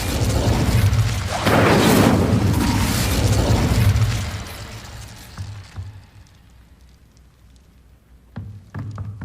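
Incendio fire spell cast in the video game Hogwarts Legacy on PS5, a loud roaring whoosh of flame that holds for several seconds, then drops to a low crackle with a few small clicks and thuds afterward.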